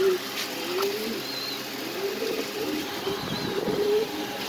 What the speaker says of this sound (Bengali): অনেক কবুতর ভাই আছে ইনশাল্লাহ